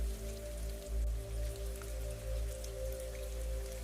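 Steady rain patters softly and continuously, with a low hum underneath and no voices.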